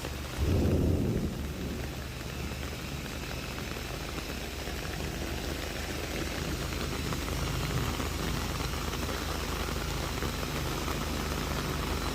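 Thunderstorm outdoors with heavy rain hissing steadily on surfaces and a deep rumble of thunder near the start, the downpour continuing loud and unbroken with no voices.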